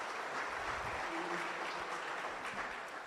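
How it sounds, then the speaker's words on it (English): Conference audience clapping for panelists at an agricultural-sector youth employment event, a steady wash of applause filling the room for about three seconds, a faint tone beneath it. "Please clap for all the panelists once more."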